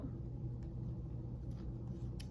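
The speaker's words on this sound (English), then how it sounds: "Sorry if you can hear the traffic noises." Steady low road traffic rumble from passing cars, a constant dull drone with faint swells, close enough to fill the background throughout.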